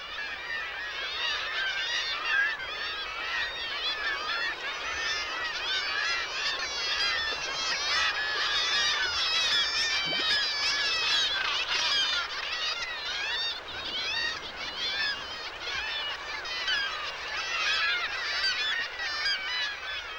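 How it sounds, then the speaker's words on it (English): A dense colony of black-legged kittiwakes calls continuously beneath a perpetual waterfall in Prince William Sound, Alaska, producing a loud, overlapping chorus of harsh, nasal cries over a steady rush of falling water, with no talking. "Part of the kittiwake colony is underneath one of these perpetual waterfalls."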